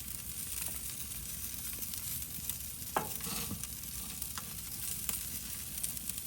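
Seasoned butter brushed over brisket steaks as they sizzle on a hot smoker grill, a steady broadband frying hiss with a few brief soft dabbing strokes near the middle, no talking.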